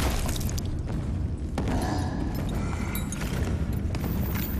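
Boomshot explosions in Gears of War Ultimate Edition on Insane difficulty, dull heavy thuds and blasts layered over constant combat noise and clatter, with a sharper impact near the middle.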